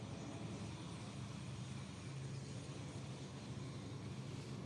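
Tri-jet airliner departing Honolulu airport, a steady loud jet engine roar that holds throughout at some distance, with no talk.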